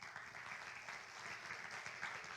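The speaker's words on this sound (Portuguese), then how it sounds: "aplauda o Senhor uma vez mais" Church congregation applauding together in worship, a dense, steady wash of clapping that stays even and fairly loud throughout, with no voices over it.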